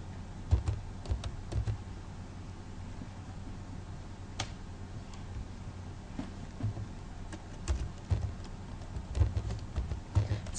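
Someone types on a computer keyboard, entering a web address into a browser; light, scattered key clicks at close range over a steady background hiss, with no voices.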